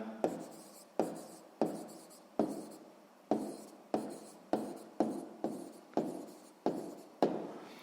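Pen strokes on paper while working a sixth-grade maths exercise: about a dozen short, crisp scratching bursts in a steady rhythm, close and fairly quiet, with no talking.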